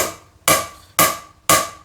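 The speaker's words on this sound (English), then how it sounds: "just start hammering it into a piece of wood" Three sharp, separate hammer blows drive a nail into a piece of wood, each a close, crisp knock spaced about half a second apart after a short quiet start.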